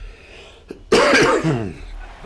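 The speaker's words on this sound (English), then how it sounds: "Sorry for the cough in my voice." A man with a flu coughs once, sharp and close, then rasps briefly as he clears his throat, following a short quiet tick.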